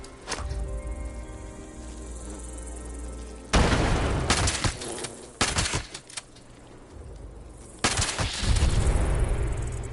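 Grenade blasts and gunfire in the video game Fallout 76, with several loud bursts of explosion and shooting cutting through a humming background, alternating with quieter stretches.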